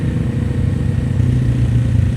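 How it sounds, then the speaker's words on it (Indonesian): An old motorcycle's exhaust rumbles loud and close while riding, a steady low throbbing note that holds throughout with no talk. "Enak suara knalpotnya."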